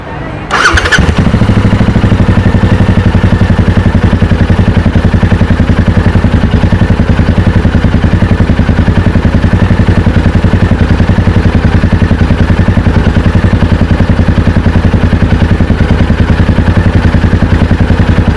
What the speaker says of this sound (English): You can hear the exhaust note, which I will play now